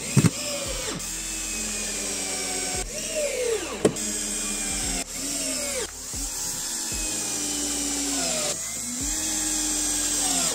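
A power screwdriver drives screws into an old wooden frame in a workshop, several short whirring bursts with pitch sweeps as screws bite and stop, close and fairly loud.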